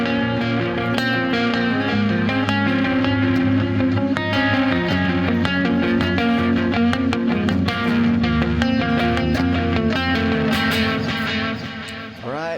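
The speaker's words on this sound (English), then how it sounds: "Effects, I got delay and reverb, as you can hear." Clean electric guitar chords through a WAZA Tube Amp Expander ring out continuously with delay repeats and a washy reverb tail, loud and steady throughout.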